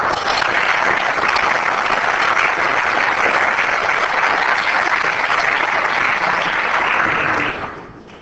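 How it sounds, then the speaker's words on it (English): A city council chamber audience applauds a Public Works employee's 25 years of service, loud sustained clapping that holds evenly for several seconds before tapering off at the end. "Let's help Steve celebrate 25 years of service to our community with a round of applause."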